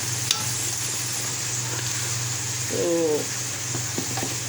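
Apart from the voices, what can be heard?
spices roasting in a pan (cumin, black pepper)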